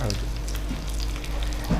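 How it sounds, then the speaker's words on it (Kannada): A tempering of chopped garlic, mustard seeds, curry leaves and small-cut ginger frying in hot oil, a close, continuous sizzle with faint stirring clatter and a low hum underneath. "ಬೆಳ್ಳುಳ್ಳಿ, ಸಾಸಿವೆ, ಕರಿಬೇವು, ಶುಂಠಿ ಸಣ್ಣ ಕಟ್ ಮಾಡಿದ್ದು ಸ್ವಲ್ಪ ಲೈಟ್ ಫ್ರೈ ಆಗಲಿ"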